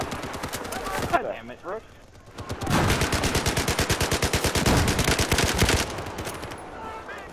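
Rapid automatic gunfire in Battlefield 4 rattles in loud, dense bursts, with a brief lull early on before a long sustained stream of shots. A player's voice curses over the shooting.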